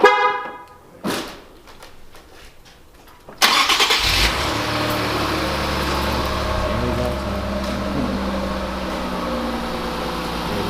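An Infiniti Q50 Red Sport starts up after a downpipe install. A few faint clicks come first, then the engine cranks and catches sharply and settles into a loud, steady idle.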